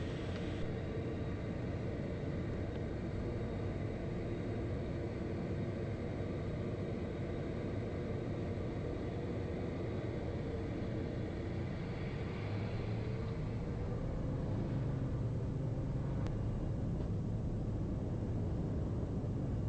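Piper Meridian turboprop (P46T) engine during the takeoff roll, heard from inside the cockpit as a dense, continuous low roar and hiss that swells slightly toward the end, with no talk over it.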